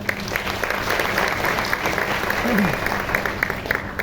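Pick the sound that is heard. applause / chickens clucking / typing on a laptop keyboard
applause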